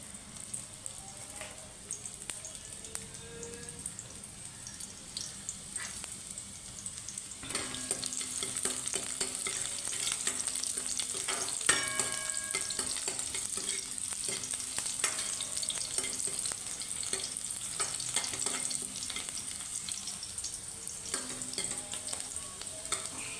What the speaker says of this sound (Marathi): आता आपण कढईमध्ये तेल गरम करत ठेवलं आहे थोडासा कांदा घालूया त्याच्यामध्ये